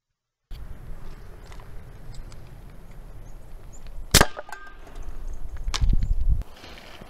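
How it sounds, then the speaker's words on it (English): A Ranger II .58 caliber slug shooter fires a lead slug at a steel soup can outdoors, one sharp crack-like impact standing out above a low ambient background, followed by fainter rustling. "this next set has the gun loaded with a lead slug and I'm shooting at a steel soup can"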